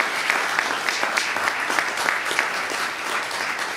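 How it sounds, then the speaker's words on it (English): A commencement ceremony audience gives sustained applause, dense and even clapping from a large crowd filling the hall with no pauses. "Please give him a round of applause as well"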